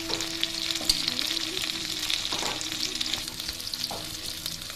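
Chopped onion and ginger-cumin paste hit hot oil in a pan for a koi fish curry, giving a loud, continuous sizzle with occasional stirring scrapes.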